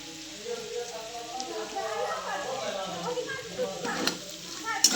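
Boiled potato and crushed peanuts stirred in a pan, a gentle sizzle with soft scraping strokes, close and fairly quiet, with a voice talking over it.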